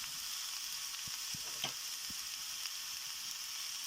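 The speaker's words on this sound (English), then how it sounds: "We need to cook them for 5 minutes, and we need to also add pinch of turmeric" Ridge gourd pieces frying in a pan: a soft, steady sizzle fills the background, with a few faint knocks and stirring scrapes of a utensil, no talk.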